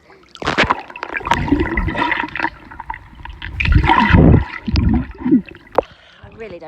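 Water splashing and gurgling as someone goes under and comes back up, with irregular close bursts of churning and bubbling and short gaps of quiet between them.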